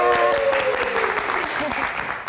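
Studio audience on the live variety show Meet Nite Live clap to welcome a guest: a dense, steady wash of applause filling the room, with a host's voice and some tonal sound briefly over it at the start.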